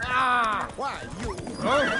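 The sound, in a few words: horse Roach neighing and galloping, from video game Witcher 3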